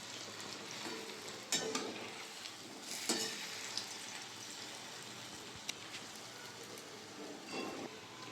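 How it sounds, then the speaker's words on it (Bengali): Dahi vada lentil fritters fry in oil, producing a soft, steady sizzle with scattered pops and a few scraping stirs, close up and fairly quiet. "দই বড়া মশলা ভাজা হয়ে গেছে"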